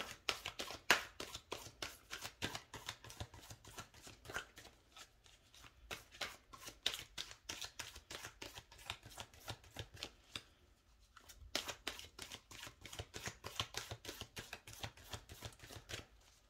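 Tarot cards being shuffled by hand in repeated riffling bursts, close and fairly quiet, with a brief pause near the middle before the crisp flicking resumes; no talking.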